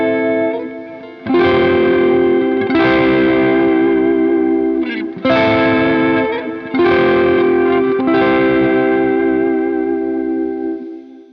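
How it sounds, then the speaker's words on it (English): Sustained electric guitar chords through a KMA Audio Machines Cirrus, washed in shimmering, wobbling modulated delay and airy high-pass reverb, each struck chord swelling and blending into the next; loud, with no voices. "I'm using this modulated delay here, and I'm using a high pass filter reverb over here"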